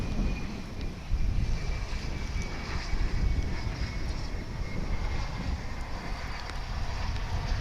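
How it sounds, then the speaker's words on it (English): An Embraer 145 jet arrives at DFW Airport from Abilene. A broad, rumbling engine roar mixed with wind noise holds steady and fairly loud throughout. "Our next arrival is coming in from Abilene. It's an Embraer 145."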